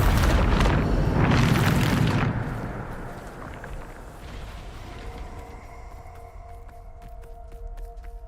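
The Bombarda explosion spell in the Hogwarts Legacy video game bursts in a loud, close blast with a rushing whoosh, then rumbles and fades into a quieter magical tonal hum.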